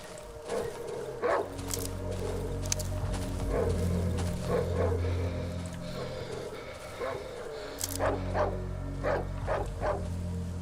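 In the horror game Darkwood, several dogs bark repeatedly in sharp, loud bursts with pauses between volleys, set against a low droning game ambience, while someone talks now and then.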